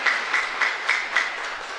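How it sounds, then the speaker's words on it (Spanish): A congregation at a Mass in Capilla Santa Cruz, Mariano Roque Alonso, claps in a regular rhythm, with evenly spaced accented beats over a steady bed of clapping. "Y un fuerte aplauso para esta hermosa comunidad."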